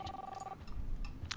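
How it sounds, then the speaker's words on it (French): Telephone ringing in the video game Life is Strange, a short electronic ring burst at the start followed by a brief second chime, heard over faint background game sound. "Le téléphone."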